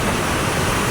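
Sea waves pound a beach in a continuous loud, broadband rushing wash with no break or talk over it.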